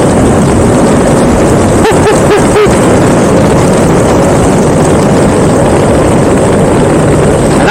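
Honda Rune motorcycle engine accelerating in fifth gear, a loud, constant roar mixed with heavy wind rush throughout, with no speech over it.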